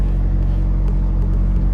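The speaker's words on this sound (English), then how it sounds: "she is idling a little better." A car engine idles steadily, a loud, continuous low rumble close by with faint ticking above it and no break in the drone.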